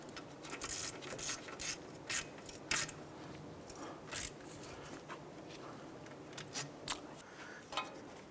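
Hub bolts being tightened into a steering knuckle on a 2006-2013 Chevrolet Impala: a series of faint, sharp ratcheting clicks and metallic ticks at irregular intervals, close by, with no talking.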